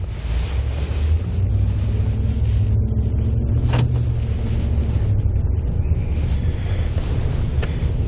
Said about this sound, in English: we're going to try to get up to about 25 to 30 miles an hour, and we're going to do some S-turns